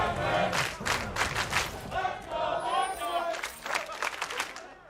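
An esports crowd at an LCS Summer Split League of Legends match chants and cheers for Team Liquid, rhythmic shouted bursts repeating loud and close, with clapping mixed in.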